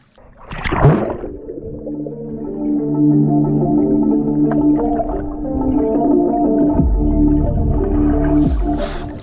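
Muffled music with sustained tones from a speaker playing underwater, sounding as if heard through water, following a brief splashy gurgle at the start.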